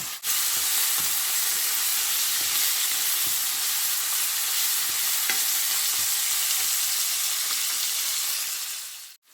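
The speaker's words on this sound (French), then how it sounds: "il faut continuer à remuer pour que ça ne brûle pas en dessous" Shrimp and vegetables sizzle loudly in a hot pan while being stirred, a dense continuous frying hiss with occasional faint scraping knocks throughout, no voices.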